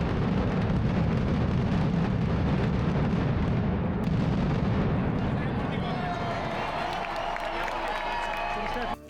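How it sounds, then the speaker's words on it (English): Fireworks and explosions at the Las Fallas festival in Valencia, a dense continuous roar of rapid booming blasts that fades into crowd cheering and applause. "fireworks and explosions are everywhere during this festival"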